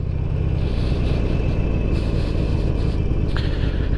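A motorcycle ridden at night on newly changed grips, its engine a steady close rumble with broadband road and wind noise throughout and no talking.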